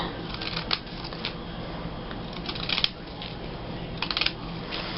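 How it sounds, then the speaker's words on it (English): Postage-stamp-edge craft scissors snip through paper in a few quiet, separate crisp cuts, close up, alone with a faint background hiss. "this gives it a postage stamp edge"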